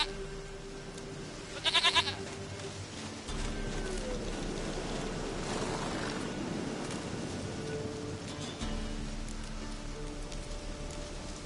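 A goat in the video game The Witcher: Wild Hunt gives a brief, fairly close bleat early on, set against a steady wash of rain pattering on surfaces that fills the whole scene.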